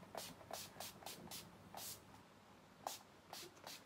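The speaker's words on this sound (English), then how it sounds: "I'm going to go in with this Urban Decay All Night Setting Spray and just set you" A run of short, breathy pumps from an Urban Decay All Night setting spray misted onto a face, about a dozen quick hisses in uneven bursts, close and soft with no talk.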